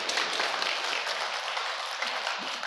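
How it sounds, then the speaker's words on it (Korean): Church congregation applauding during a Thanksgiving Sunday service, a dense, even wash of many hands clapping at once that holds steady for a few seconds at moderate distance and volume. "다시 한 번 더 지켜주시고 살려주신 하나님께 영광의 박수 올려드리겠습니다."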